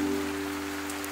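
Steady rain falls through a night scene in a drama, a continuous even wash of drops on surfaces with a faint low hum beneath and no voices.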